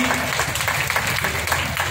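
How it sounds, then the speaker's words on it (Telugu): Dense, loud, continuous clapping from an audience in a hall. It runs as an even roar of claps for the full two seconds. "మీరందరూ చక్కగా చప్పట్లు కొట్టాలి."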